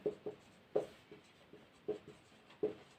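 Chalk or marker strokes on a board during a maths lesson, a series of short, light taps and scratches at an irregular pace, faint and close, with no talking.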